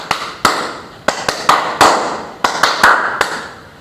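Rhythmic hand clapping in a classroom teaching demonstration, about a dozen sharp, close claps in an uneven pattern, some in quick pairs and triplets, with no talk over them.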